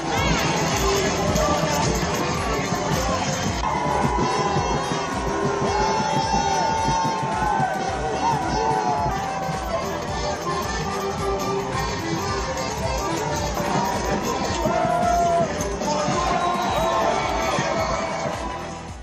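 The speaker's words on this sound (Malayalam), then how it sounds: "തുറന്ന ബസ്സിൽ തലസ്ഥാന നഗരിയായ പ്രയയിലൂടെ നീങ്ങിയ കളിക്കാരെ ജനങ്ങൾ ആർത്തുവിളിച്ചു, കൈയടിച്ച് സ്വീകരിച്ചു." A dense crowd cheers, roars and claps for the national football team's players as their open-top bus moves through the capital city, Praia. The noise is loud and continuous, with no break from start to finish.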